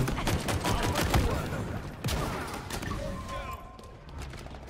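Rocket launcher fire and explosions in the video game Halo Infinite, a dense barrage of sharp blasts and crashes up front that eases into scattered booms, with no voices over it.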